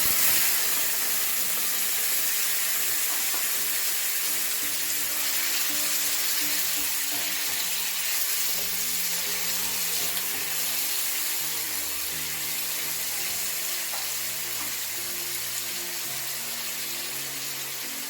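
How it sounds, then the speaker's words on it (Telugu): Tomatoes dropped into a spoonful of hot oil in a pan for a coriander-tomato chutney, giving a steady, close hiss of frying that runs unbroken throughout with faint clinks. "ఇప్పుడు దీంట్లో 1 స్పూన్ వరకు ఆయిల్ వేసుకొని టమాటాలను ఫ్రై చేసుకోవాలి"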